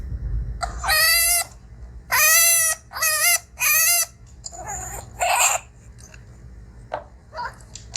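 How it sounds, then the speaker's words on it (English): Four long, shrill, harmonic wails from a crying, screaming chinchilla, loud and close, each about half a second, followed by softer squeaks and rustling. "that is the sound of crying and screaming"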